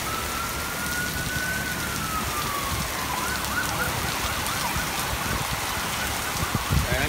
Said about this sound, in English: it is raining that hard